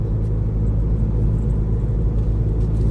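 A Volkswagen Golf 6 TDI with a stage 2 tune cruises along, giving off a steady low cabin rumble of engine and tyre noise, loud and unbroken with no speech.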